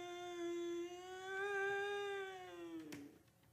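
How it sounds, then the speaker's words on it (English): For an old-time radio drama, a creature meows like a cat in a long, wavering, drawn-out yowl that rises and then fades, followed by a sharp knock near the end, heard alone without speech. "I could hear it meowing like a cat"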